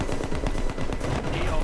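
In Battlefield 4 multiplayer, a tank fires amid dense, loud gunfire, with rapid crackling shots and heavy booms blending into a continuous roar of combat.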